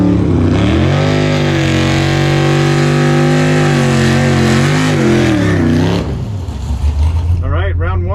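A COPO Camaro with a Magnuson supercharger launches down a quarter-mile drag strip, a loud close engine roar rising and falling through gear changes before cutting off sharply, with another engine revving briefly afterward and faint voices.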